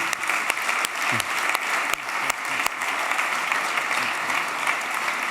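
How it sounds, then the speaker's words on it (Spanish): An audience at a Madrid talk on Europe applauds two arriving speakers, a monsignor and a professor, with steady, dense clapping and a few sharp, distinct claps standing out near the front. "pido un aplauso para ellos"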